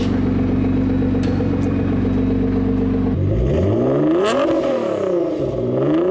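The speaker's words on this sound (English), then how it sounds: "That sounded nice. Let me know what you guys think about this Nissan GTR." A Nissan GT-R engine idles with a steady low drone, then revs up and down in rising and falling sweeps, loud and close, with no talking.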